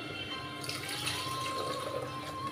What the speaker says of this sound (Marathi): याच्यामध्ये मी पाणी टाकत आहे